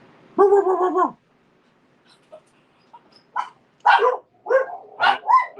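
A video game dog gives a long drawn-out bark followed after a pause by a quick series of shorter yips and barks, loud and close, with no talking.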